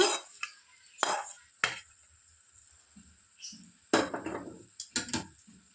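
Tomato pickle being stirred with oil in a pot: a few sharp scraping clinks of a spoon against the metal rim, spaced irregularly, with soft wet mixing in between, close and fairly quiet.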